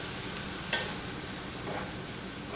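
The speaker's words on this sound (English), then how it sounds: "Get this onion spread out and stirred up. Get it soaking in all that nice good butter." A large yellow onion cooks in butter in a pan, a soft steady sizzle with a brief clatter of stirring, alone and close.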